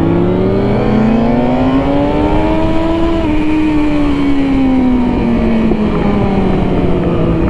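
Sport motorcycles ridden as a group, including Yamaha R6 and R1, a Honda CBR, a 636 and a Gixxer 1000, drone loudly and steadily. The engine pitch climbs and then slowly falls, with no talk.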